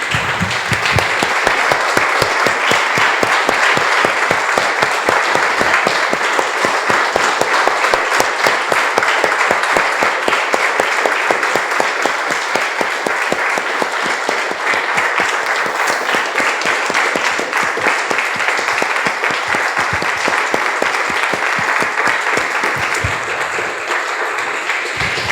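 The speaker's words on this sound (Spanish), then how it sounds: "Damos un aplauso, hermanos," A church congregation breaks into sustained applause, a dense, steady wash of many hands clapping close by that carries on for the whole stretch with little letup.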